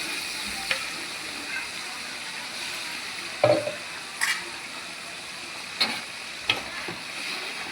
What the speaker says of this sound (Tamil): இந்த தக்காளி வெங்காயம்லாம் நல்லா வதங்கி எண்ணெய் பிரிஞ்சு வரணும்